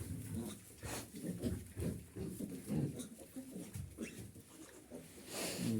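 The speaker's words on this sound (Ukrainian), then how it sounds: "Кудись іде свинка, мабуть, їсти" A pig moves about a pigsty bedded with straw, heading toward its feeding trough, giving low snuffling grunts and shuffling noises in uneven bursts close by.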